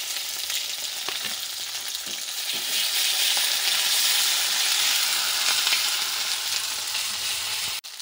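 Onions, dried chillies and garlic paste frying in oil for a goat meat and papaya curry, an even crackling sizzle with occasional stirring scrapes, close and steady, ending in a brief clunk.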